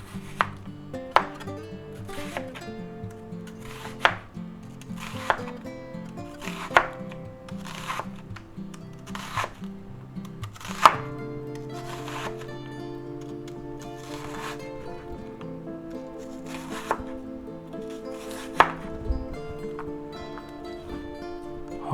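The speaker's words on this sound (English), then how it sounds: "Now we'll take our half of a yellow onion here and we'll slice that up." Knife slicing half a yellow onion on a cutting board: a steady series of sharp, close chops at roughly one-second intervals over a continuous layer of background music.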